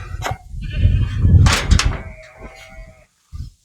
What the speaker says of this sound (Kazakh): Қойларды шығарып жібереміз.